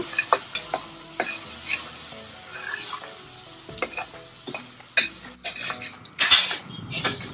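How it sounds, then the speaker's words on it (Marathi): Ground masala paste stirred into a hot pan for Puneri misal, with sharp clinks and scrapes of a metal spoon against the pan over a quiet sizzle, irregular strokes close up and no talking. "आपण हे वाटलेलं वाटण टाकू याच्यामध्ये. त्याला मिक्स करून घेऊया."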